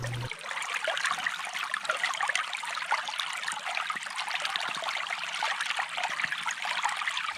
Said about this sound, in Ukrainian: А зараз пропоную послухати, як саме шумить весняний струмочок.